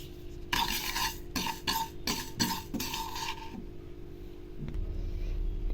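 Sesame seeds frying in a pan while being stirred, with a series of scraping, rustling strokes close by, followed by a quieter stretch and a soft low rumble.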